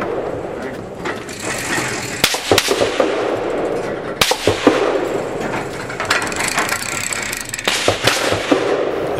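Sharp rifle reports crack at a target range, several loud impulsive shots spread through the stretch over a continuous rustling background.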